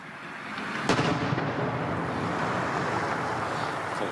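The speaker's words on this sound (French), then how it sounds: "vous avez entendu, les bombes ne sont jamais très loin, encore aujourd'hui." Distant bombardment in Bakhmut, Ukraine, heard as a sharp distant boom followed by a long low rumble that keeps rolling under steady background noise, with no voices.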